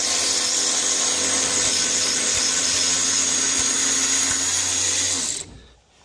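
A DeWalt brushless Atomic 3/8 drive power tool, used during a winch replacement on a 2018 Honda Pioneer 1000, runs with a loud, close, continuous motor whir for about five seconds before winding down to quiet.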